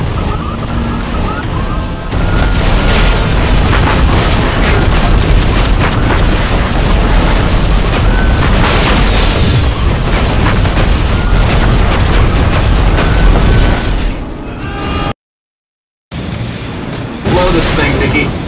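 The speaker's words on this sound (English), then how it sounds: "The explosions are screwing the surveillance up" Continuous heavy rumbling explosions and booming blasts in the Iron Man 2 video game, loud and dense, with a brief moment of silence near the end before the roar resumes.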